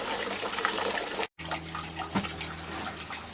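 Wort drains from a mash tun outlet during a pale ale brew, a steady close rush of liquid that breaks off briefly near the middle and then continues at a lighter, trickling level.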